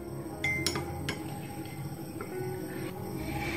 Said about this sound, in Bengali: নেড়ে চেড়ে মিশিয়ে নিচ্ছি